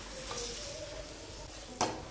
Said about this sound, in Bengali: 3 থেকে 4 মিনিট এইভাবে নাড়াচাড়া করে ফুলকপির যে জলজলে ভাবটা রয়েছে শুকিয়ে নেব, যাতে ফুলকপিটা খুব সুন্দরভাবে ভাজা ভাজা হয়